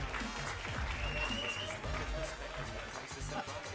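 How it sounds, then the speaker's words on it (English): At the eFootball Championship 2024 World Finals, a fairly distant crowd claps and cheers while a host's voice and other voices come through over the applause. "Once again, round of applause."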